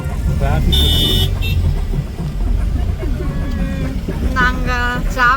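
Busy road traffic on a trip toward Ooty, with engines rumbling close and several car horns tooting in short bursts, loudest near the end, while people talk over it.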